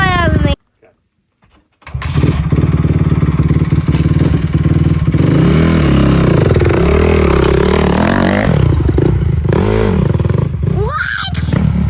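A Honda CRF 250R dirt bike that had sat for seven years runs loudly and steadily after a brief silence, its engine note rising and falling as it revs, with people talking over it.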